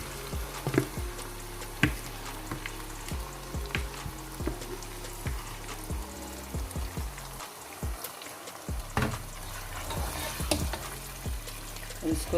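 Marinated mutton frying in a pot and stirred for Achar Gosht, a loud continuous sizzle broken by regular clanks and scrapes of a spoon against the pot.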